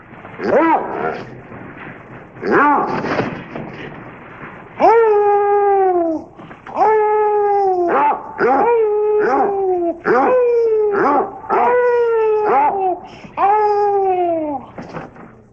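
Several basset hounds howl in long, drawn-out wails, one after another in a steady series of close, loud cries with brief pauses between, some breaking into whimpers and yips.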